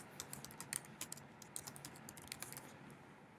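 Computer keyboard typing, a quick run of soft close key clicks in an irregular rhythm, faint and alone.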